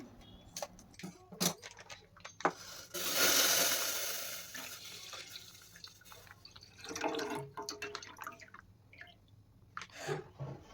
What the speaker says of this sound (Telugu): స్టీల్ బౌల్ పెట్టుకొని దీంట్లోకి ఒక 1/2 లీటర్ పాలను వేస్తున్నాను